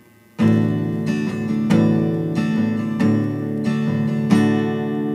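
An acoustic guitar strummed in several strong downstrokes, each chord muddied by booming low bass strings ringing along.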